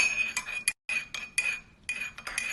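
Hot water with salt and turmeric stirred in a cup, a spoon clinking repeatedly against the sides in quick, uneven strokes, close and clear with no talk.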